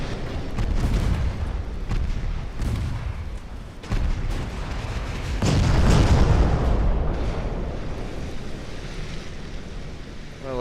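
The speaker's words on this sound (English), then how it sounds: "the destroyer's just going to eat a bunch of torpedoes" Repeated heavy booms and rumbling blasts from torpedoes striking a destroyer in the naval battle game Ultimate Admiral Dreadnoughts, with dense overlapping impacts and a sustained low roar, no voices.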